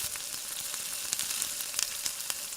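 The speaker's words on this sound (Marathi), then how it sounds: "थोडं शेंगदाण्याचं तेल आप्पे पात्रामध्ये घालायचं आहे आणि याला गरम करून सेंटरचा पार्ट जास्ती गरम असतो, म्हणून साईडनी बॅटर आप्पे पात्रामध्ये घालायला सुरुवात करायची आहे" Dal-rice appe batter sizzling in hot peanut oil in an appe pan, a continuous crackling hiss with small sharp pops, moderately loud and close, no talking.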